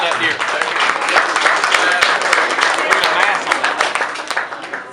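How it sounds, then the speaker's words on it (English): A crowd at an awards ceremony applauds with steady, dense clapping for several seconds while a voice talks over it. "Everybody clap up here."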